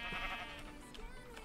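A sheep bleats in the video game Minecraft, a faint, wavering nasal cry heard against quiet game background.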